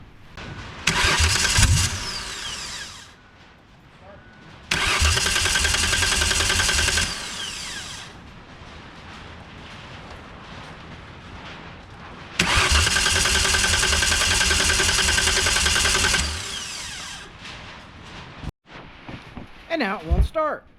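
An old car engine cranks without catching in three long, loud bursts separated by pauses, close by, with a few quick clicks at the very end.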